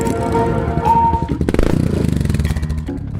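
A motorcycle starting up and pulling away from a roadside spot in a street setting, its engine chugging in a fast rhythmic putter that grows louder and steadier after a muddled opening.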